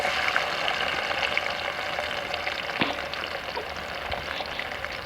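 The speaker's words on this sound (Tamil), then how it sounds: "இஞ்சி பூண்டு நல்லா ப்ரௌனிஸாக வரும்" Chopped ginger and garlic fry in hot oil with a steady, fine sizzle and crackle, plus a few louder pops and spatters, heard close and without talk.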